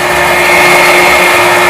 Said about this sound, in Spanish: ¡Se licuamos por un minuto!